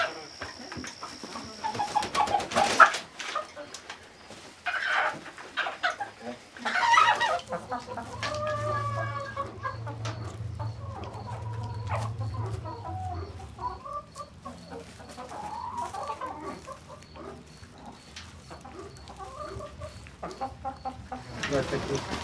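Rescued hens cluck steadily in a barn as they are unloaded and settled, a busy flock of overlapping clucks and calls close by, with people talking and moving around them.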